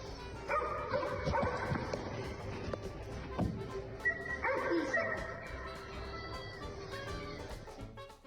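Stray dogs bark outdoors, with repeated yips and barks from more than one dog. The barking is fairly close and busy, over a noisy background, and there is no clear talk.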